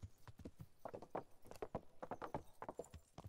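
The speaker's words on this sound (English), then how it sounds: "People don't take kindly to you ramming your horse into them." Horse hooves clip-clopping in the medieval game Kingdom Come, a steady run of close, distinct hoofbeats with occasional louder strikes, heard alone without talk.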